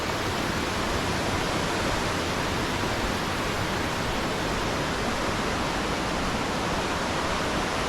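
A small stream near Anachadikuthu Waterfalls flows with a constant, dense rushing hiss, loud and unchanging from start to finish with no voices.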